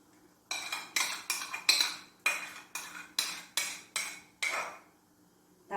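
A spoon scrapes and knocks against a pan while yogurt is stirred into chicken karahi, roughly nine evenly spaced metallic strokes, close and crisp, each fading quickly before the next.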